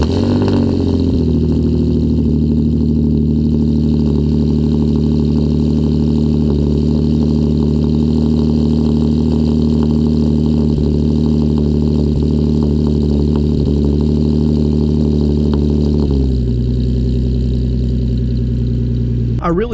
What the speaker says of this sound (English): Let's get a cold start real quick.